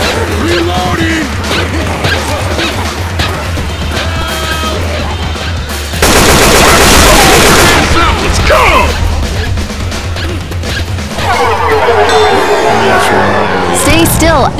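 Heavy automatic gunfire in a video game shooter, with loud continuous bursts and crashing impacts and a dense stretch of rapid fire in the middle, under shouting voices.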